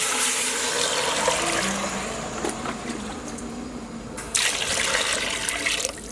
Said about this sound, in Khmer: ចាក់ទឹកចូល